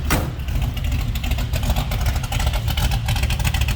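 A 1967 Chevrolet Camaro RS's 383 V8 with a low cam rumbles steadily at idle nearby, a deep, lumpy throb with slight variations in pitch.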